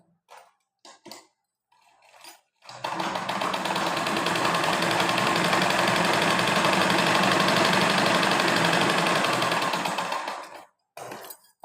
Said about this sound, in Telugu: ఇది ఇలా కలిపి స్టిచ్ చేయండి